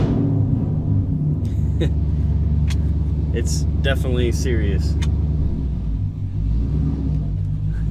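Deep, steady rumble of a Dodge Challenger R/T with a 5.7 Hemi, automatic transmission, Texas Speed Stage 3 cam, heard from inside the cabin at idle, loud and continuous, with someone briefly speaking over it.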